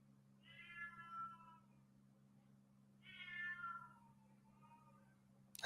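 An indoor cat meows twice, long drawn-out cries a couple of seconds apart, moderately close over a steady low electrical hum, with no speech.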